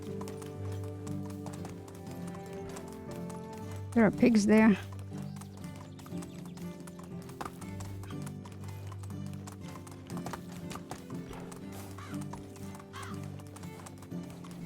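Donkey hooves clip-clop steadily in Medieval Dynasty over a constant bed of game music, with a brief louder burst near the middle, while someone talks over part of it.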